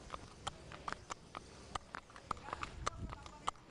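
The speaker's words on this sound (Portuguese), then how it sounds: "É um cavalo de dentro da polícia." A riot-squad police horse from the mounted unit walks on hard ground, its hooves clip-clopping in an irregular, fairly close rhythm of sharp knocks over a low background.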